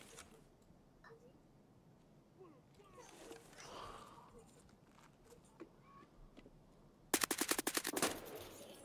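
Gunfire in Escape from Tarkov: faint scattered distant shots and rustling give way near the end to a loud rapid burst of close automatic fire.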